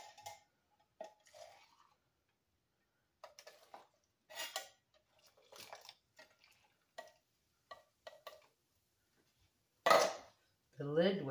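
Pots, pans and a metal pan lid clatter in a home kitchen while chili is made, with a few sparse knocks and one sharp, louder clang near the end, with quiet pauses between them.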